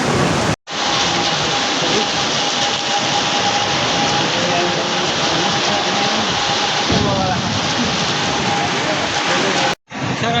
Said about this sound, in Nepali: ठुलो पानी परेर